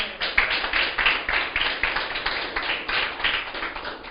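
A church congregation claps in a steady, rhythmic beat during a sermon, about three claps per second. The sound carries on evenly at a moderate distance.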